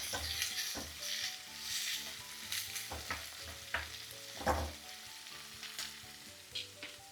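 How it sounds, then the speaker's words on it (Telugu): Thinly sliced onions and green chilies frying in a pan for a South Indian baby potato kurma: a steady, close sizzle with occasional stirring scrapes and clinks, no talking. "ఇందులో సన్నగా పొడుగా కట్ చేసి పెట్టుకున్న ఉల్లిపాయలు కొంచెం ఎక్కువగానే పడతాయి అలాగే పచ్చిమిర్చి బాగా కలర్ వచ్చేంత వరకు వేగనివ్వండి"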